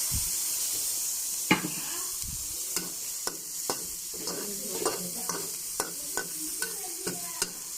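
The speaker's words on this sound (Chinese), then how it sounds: "炒香了，然后放这个葱姜蒜，然后再倒这个啤酒" River snails stir-fry in plenty of oil with scallion, ginger, garlic and a splash of beer. A continuous hissing sizzle is broken by regular sharp spatula scrapes and clicks.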